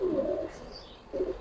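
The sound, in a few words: Giribaz pigeons cooing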